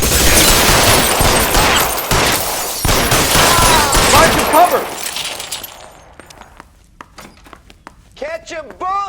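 Gunfire in the video game L.A. Noire: a loud, dense volley of shots with sharp cracks fills the first few seconds, then thins to scattered distant pops and faint sounds.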